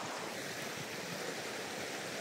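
A large river flows with a steady, broad rushing wash of water, continuous and even, with no voices.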